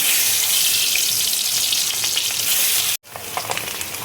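An egg hitting hot oil in a pan, a loud, dense continuous sizzle that cuts out briefly near the end and then resumes at a slightly softer level.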